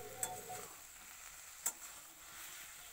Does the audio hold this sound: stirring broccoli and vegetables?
yes